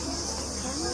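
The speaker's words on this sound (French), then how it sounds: "défendez-vous contre ces moustiques. On les entend." Mosquitoes at a medieval festival in Petite Forêt make a thin, steady high-pitched whine that hangs continuously over a low, busy background.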